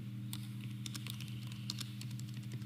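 Keys on a computer keyboard clatter in quick irregular bursts, faint and close, over a steady low electrical hum, with no talking.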